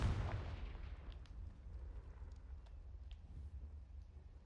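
The Confringo spell in Hogwarts Legacy bursts in a deep booming explosion at the start, its low rumble decaying slowly over several seconds with faint crackles, no talking.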